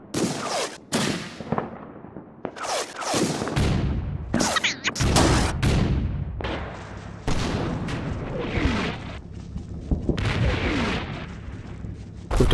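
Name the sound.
mortar fire in Combat Mission video game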